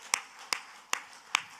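Four sharp, evenly spaced hand claps ring out at a slow, steady beat in a church setting, each one crisp and distinct against near silence.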